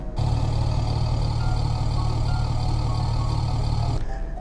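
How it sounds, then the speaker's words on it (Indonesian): A Neta V-II electric car plays its artificial engine rumble, a steady low droning hum with a faint mechanical whine, held evenly for about four seconds and then cut off, with no talking. "Kalau engine suaranya tuh suara gemuruh mesin kayak gini."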